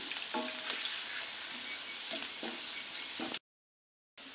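Finely chopped onions sauté in a pan for chicken sukka, a loud continuous hiss with a few soft stirring scrapes, cut by a brief total silence before the sizzle returns.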